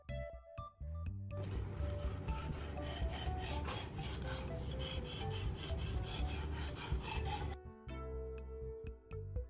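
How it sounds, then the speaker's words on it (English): A kitchen knife blade held in a PVC pipe guide slides over a wet sharpening stone resting on a damp cloth, giving a steady, close rasping scrape that runs for several seconds and stops abruptly near the end, with no talk. "Now, wet the stone and begin sharpening."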